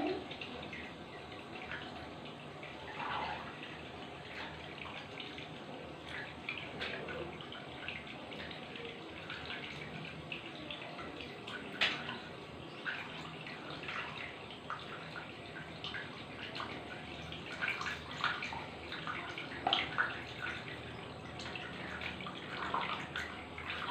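Running water flowing steadily while an object is washed clean, a faint continuous splash and trickle with occasional louder drips and knocks.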